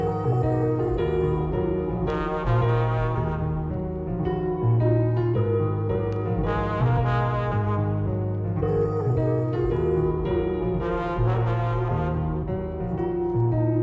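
A dark, slowed-down sample run through halftime, J37 tape, RC20 and Valhalla Vintage Verb: dense, warm, heavily reverberant chords with a thick low end and hazy wash, playing loud and continuously with no voices.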